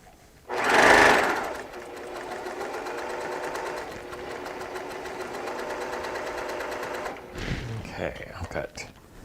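A sewing machine runs steadily while stitching quilt strips with a quarter-inch seam guide, its even mechanical whirr lasting several seconds after a brief loud rustle, then fading into handling noises.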